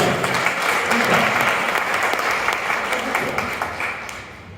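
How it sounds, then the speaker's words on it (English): Sustained applause from a room full of people, steady clapping that thins slightly toward the end, with a few faint voices mixed in. "Big round of applause for Meera."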